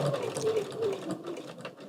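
A domestic sewing machine stitches a zigzag crosshatch quilting design, running steadily with a rapid mechanical needle rhythm at close range, alone with no talk.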